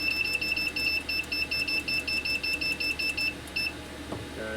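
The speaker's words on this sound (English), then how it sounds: "Sorry about the beeps." Electronic beeps sound during the building of a battery bank from 18650 cells: a rapid, steady series of short, shrill tones, loud and close, stopping near the end before a soft clunk.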